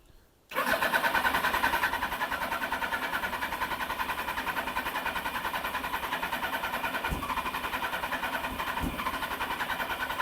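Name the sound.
Suzuki GSX1100 motorcycle engine cranking with choke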